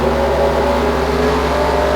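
A race car engine in a racing video game drones steadily at full throttle, a loud, constant buzzing roar with no pauses or talk.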